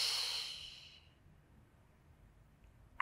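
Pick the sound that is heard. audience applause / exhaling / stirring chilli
exhaling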